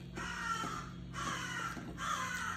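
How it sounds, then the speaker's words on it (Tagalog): Crows caw loudly in two or three harsh bursts, with steady low background noise underneath. "Ngayon po, ang aking kasama rito, uwak."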